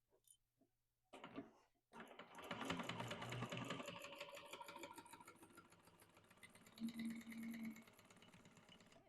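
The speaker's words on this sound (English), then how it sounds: "I'm actually going to chain stitch these just to make things a little bit faster." A sewing machine chain stitches bag pieces in one long, steady whirring run after a short start, close and fairly quiet, with no talking.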